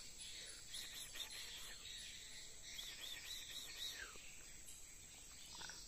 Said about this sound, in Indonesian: ini burung yang suaranya merdu